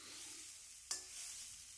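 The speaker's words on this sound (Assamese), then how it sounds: "নাৰিকলখিনি মই এনেকৈ কেৰাহীত ভাজি ল'ম শুকানে" Grated coconut dry-roasting in a wok makes a faint, soft, steady hiss, with a single sharp scrape or clink of a spatula partway through, and no voices.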